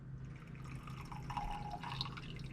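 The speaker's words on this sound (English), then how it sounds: "pour our triple shot of espresso" A triple shot of espresso trickles and pours quietly into a mug, a faint, brief splashing stream against a low background hum.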